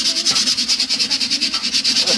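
A wooden cane being sanded by hand with coarse 80-grit sandpaper, a steady rhythmic scratching of quick back-and-forth strokes, close and fairly loud, with no talk.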